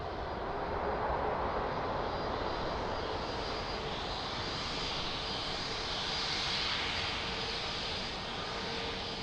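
An airliner's engines roar steadily at full power on takeoff at Lisbon Airport, a broad, continuous rumble heard from a moderate distance, swelling slightly as the aircraft passes.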